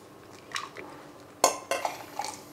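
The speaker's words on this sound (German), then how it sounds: "Und jetzt werde ich hier so ein bisschen Suppe rausschöpfen." Utensil clinks against a pot while pea soup with sausage pieces is ladled out, a few sharp metallic knocks and scrapes over soft background, close and fairly quiet.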